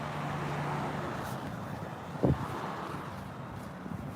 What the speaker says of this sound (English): This truck with the trailer right now.